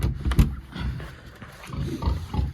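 Piglets and young pigs kept at home give low, rough grunts and snorts in irregular bursts, close by, with a short sharp squeal near the start.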